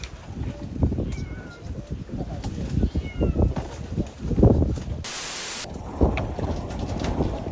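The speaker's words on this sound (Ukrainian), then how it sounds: "Кіт втік, кіт з лодки." A cat meows faintly on a boat on a flooded river after the Kakhovka dam breach, under choppy wind and water noise and people talking, with a brief burst of hiss midway.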